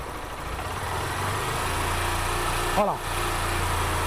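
A car engine drones steadily at a constant idle-like rev with a slight swell in loudness, and a brief voice cuts in near the end.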